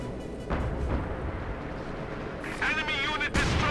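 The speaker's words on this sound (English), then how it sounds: "Light artillery perhaps getting called in against enemy mortars." Artillery fire from the Company of Heroes 2 strategy game, low muffled booms and rumbling impacts heard under continuous commentary, with a brighter burst of crackling blasts near the end.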